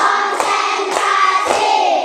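Three evenly spaced hand claps from a classroom group punctuate a continuous humming tonal background, each clap short and fairly soft.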